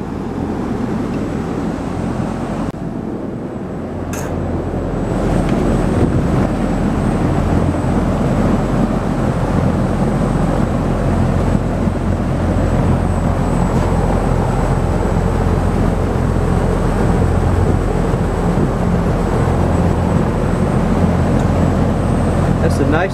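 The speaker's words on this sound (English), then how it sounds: "Nice sounding fan." A Sturtevant Size 8 Design 5 propeller fan on a display stand, driven by a 425 RPM motor, runs with a loud, steady broadband whoosh and low hum that swells after a brief dip and holds constant.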